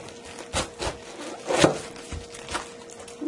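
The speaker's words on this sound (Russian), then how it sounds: "Капусту режем напополам." A knife cuts through a cabbage, halving it in a home kitchen, producing several crisp, crunchy cutting strokes at a moderate pace, close and fairly quiet with no talk.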